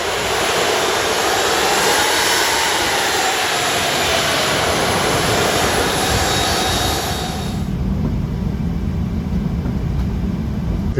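A Trigana Air airliner rolls along a bumpy runway before departure, its engine noise a loud, steady broadband roar that drops to a lower, rumbling drone near the end.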